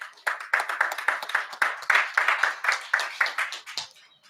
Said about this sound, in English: So I'd like us to give a round of applause to Henry in terms of the impact it's making everywhere.